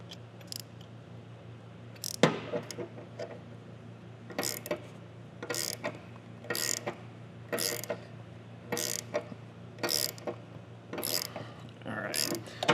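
A hand tool ratchets in repeated bursts of clicking while tightening a clutch pressure plate into place during a chain drive conversion and clutch upgrade on a Harley-Davidson Dyna, steady mechanical clatter over a low background hum.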